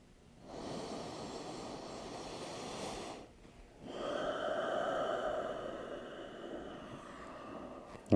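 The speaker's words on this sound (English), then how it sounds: "We're going to allow our inhale and exhale." Deep, slow breathing while lying on a myofascial ball, one long inhale and then a longer exhale, close and soft with breathy airy noise and a brief pause between them.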